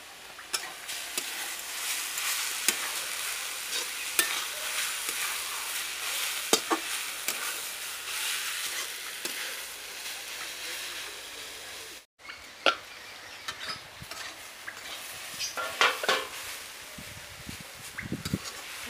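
Grated carrots for a homemade gajar halwa frying in a pan while being stirred, a soft continuous sizzle with scattered scraping and clicking strokes, fairly quiet and close, with a short pause partway through.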